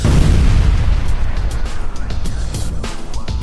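An explosive blast hits an aluminium foam panel, a loud, deep boom at the start that rolls into a long rumbling decay with scattered crackles as it fades.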